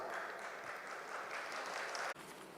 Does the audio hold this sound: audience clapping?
yes